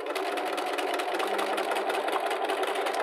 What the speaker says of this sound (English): We are going to run our machine at a moderate speed and move our quilt at a moderate speed.